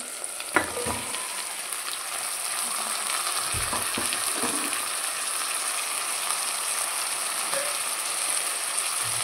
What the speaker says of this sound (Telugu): ఇప్పుడు మనము సొరకాయ వేసుకుందాం.